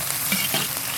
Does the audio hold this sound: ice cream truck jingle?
no